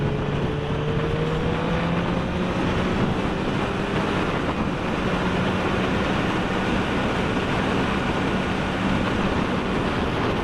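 Heavy wind buffeting the microphone while riding the Isle of Man TT course, a loud constant rush throughout, with a faint engine tone rising underneath.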